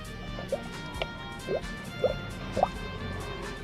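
Air escapes from a glass tilted underwater in a bucket, giving four soft bubbling gurgles spaced about half a second apart, faint and close against a quiet room.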